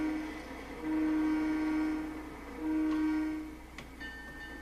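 A train rolls along in Trainz Railroad Simulator 2006, a steady rumbling hum with a low tone that swells twice and a brief higher tone near the end, no voices.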